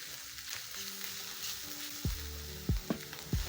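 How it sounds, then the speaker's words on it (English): Three cloves of garlic stirred into a hot pan for a stir-fry, giving a steady close sizzle with a few sharp low knocks of the spoon against the pan near the end. "So these are 3 cloves of garlic. Stir in. Let the garlic cook until fragrant."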